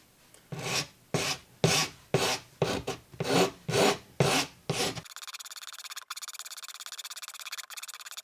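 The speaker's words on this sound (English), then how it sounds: "Now that the glue has dried, I'm going to take back the inlay with a file." A hand file rasping back an inlay set into a wooden guitar head plate, about nine rhythmic close strokes, each a loud coarse scrape, followed by a quieter steady hiss.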